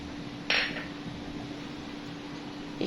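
A spoon stirs a pot of chicken biryani, clanking sharply against the metal twice, once near the start and once at the end, over a quiet kitchen hum.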